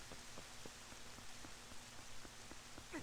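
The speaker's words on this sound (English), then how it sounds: "Right, now let's get out of the rain" Steady rain falls in the video game Zelda: Twilight Princess, a soft even hiss with small pattering drops, faint and continuous with no voices.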